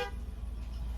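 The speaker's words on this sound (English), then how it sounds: "My mother-in-law actually pulled up and honked." A car horn gives a brief honk right at the start as a vehicle pulls up, followed by a low, steady engine rumble close by, with no one speaking.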